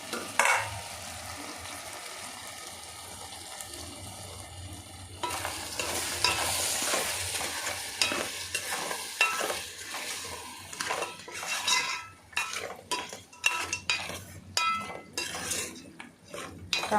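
Tomatoes for a mutton curry cook down in a pan, giving a soft steady sizzle that grows livelier partway through, with utensil scrapes and metallic clinks against the pan.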